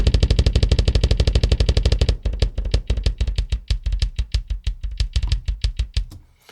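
A rapid barrage of metal kick drum hits from Superior Drummer 3 with a boomy, muddy low end, dense at first, then a steady fast double-kick pattern played alone.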